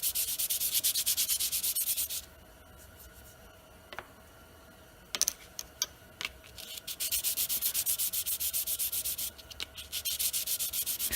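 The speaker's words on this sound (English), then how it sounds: "I'm just kind of lightly sand just the sides here" Light hand-sanding of vacuum pump parts from a Dodge Cummins with 300-400 grit sandpaper, a steady close raspy rubbing in two long stretches broken by a quieter pause with a few sharp ticks.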